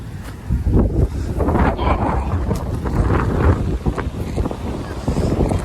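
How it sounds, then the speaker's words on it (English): Strong gusting wind on the Greek island of Rhodes, buffeting the microphone with rough, loud rumbling that continues unbroken the whole time. "It's so windy here as well, it's unbelievable."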